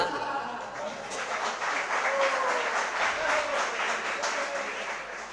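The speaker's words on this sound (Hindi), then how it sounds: "सर्दी के समय पर तालियों की आवाज कम आती" Scattered audience clapping at a Jain religious discourse, a soft steady patter of many hands that carries on for several seconds, neither loud nor sharp.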